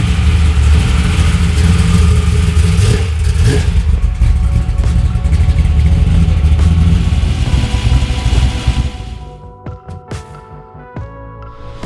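A high horsepower V8 street car engine, first a loud rumbling drone that fades after about nine seconds, followed by quieter mechanical clicks and ticks.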